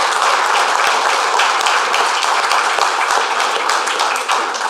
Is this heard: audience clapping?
yes